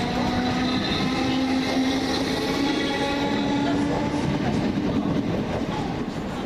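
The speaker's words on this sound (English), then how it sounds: "Next out, this is the London Bridge train." A London Bridge-bound train moves through East Croydon station with a steady rolling rumble and a faint rail squeal, sounding continuous and moderately near.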